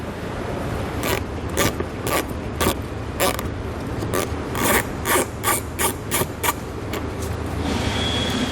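A 5.5mm socket backing bolts out of a 2019 Ford Explorer's wheel well, giving a series of sharp ratcheting rasps and clicks repeated in short bursts, close and fairly quiet.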